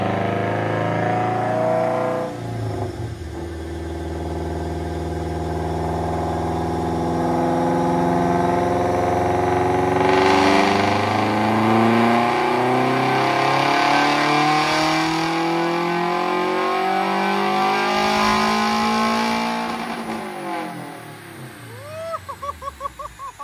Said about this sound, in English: he's bringing the turbo in and it starts spooling